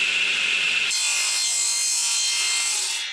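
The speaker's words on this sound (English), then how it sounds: "Now I'm going to cut 6 4-inch pieces." Handsaw cutting through wooden pieces for a homemade kayak cart, a steady continuous rasping stroke that shifts slightly in tone partway through, close and loud with no talking.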